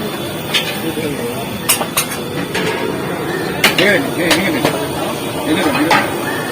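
Metal pots and utensils clink and knock with irregular sharp taps during food preparation for a Saraswati Puja, set against a busy background hum and voices speaking.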